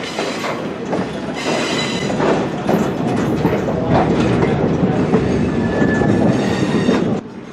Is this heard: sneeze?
no